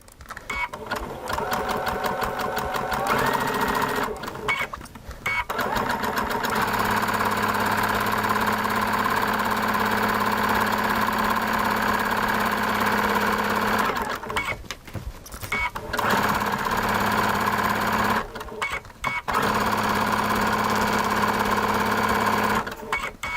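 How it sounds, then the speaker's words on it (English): A sewing machine stitches slowly and steadily over a wire in several sustained runs of rapid mechanical chatter with a low motor drone, stopping briefly between runs, close and alone. "So I'm going to sew nice, slow and steady."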